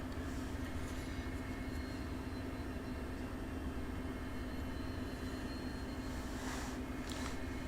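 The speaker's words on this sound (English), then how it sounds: "BNSF coal trains pass by the yard" A BNSF coal train passes a rail yard in the Run8 Train Simulator game, a faint, steady low rumble that holds evenly throughout with no distinct peaks.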